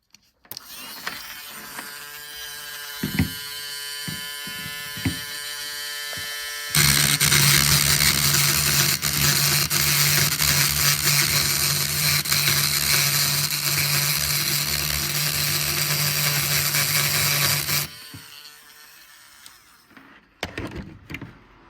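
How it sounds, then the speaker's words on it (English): A small Dremel rotary tool grinds coralline deposit off a rare Murex seashell, starting with short bursts, then a loud, steady high-pitched whine with scraping for about eleven seconds, before cutting off and trailing into a few quieter bursts. "So when I have to use my little Dremel to clean shells,"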